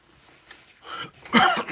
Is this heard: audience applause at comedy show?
no